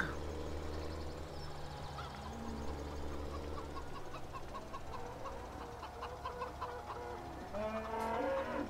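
Chickens clucking in Farming Simulator 17 on a farm, scattered soft clucks and bird calls over a steady low machine hum, with a louder burst of clucking near the end.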